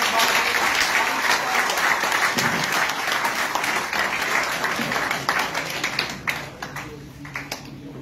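A youth audience at Mirchawalas Institute in Karachi gives a speaker loud, sustained applause, many hands clapping in a thick roar that slowly thins and fades toward the end.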